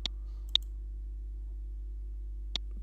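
Three sharp, faint mouse clicks land on a website bonus button: two in quick succession, then one more about two seconds later over a quiet low hum.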